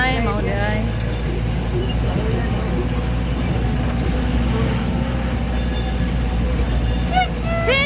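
Ride aboard a small tourist train at Dahilayan Forest Park, a steady rolling rumble with light clinks and rattles running throughout, with people chatting over the noise.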